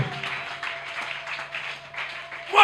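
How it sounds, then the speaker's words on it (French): A Sunday church congregation claps in loose, uneven bursts, moderate in volume, with a low steady hum beneath and a louder sound breaking in at the end. "Est-ce qu'on peut d'abord applaudir pour eux?"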